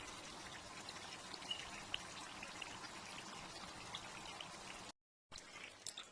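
Cooking oil poured into a pot while making Ghanaian black chilli sauce, a steady hissing, trickling splash that runs continuously, cuts out briefly near the end, then resumes.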